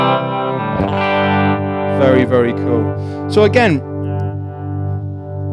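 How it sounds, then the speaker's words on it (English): A Moog Minifooger effects pedal set for a pseudo-univibe modulation tone, with low shape, low speed and raised depth, swirling a sustained instrument note while a person talks over it. "you can kind of get pseudo univibe tones out of it"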